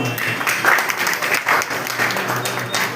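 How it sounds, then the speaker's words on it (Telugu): A book-launch audience for a poetry collection in Kurnool applauds a newly welcomed poet, with steady, dense clapping from a crowd filling the whole moment. "ఒకసారి గట్టిగా చప్పట్లు కొట్టి ఆహ్వానిద్దామా?"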